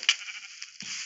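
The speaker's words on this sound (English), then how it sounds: "Sheep!" A sheep bleats in the Minecraft video game, one short, clear, fairly loud bleat heard alone without talking.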